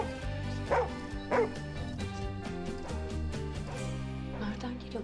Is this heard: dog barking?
yes